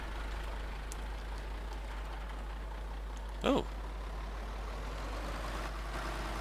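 A tractor engine in the video game Farming Simulator 2013 drones steadily at idle with a low, constant hum, heard from the cab, while a voice gives one brief exclamation midway.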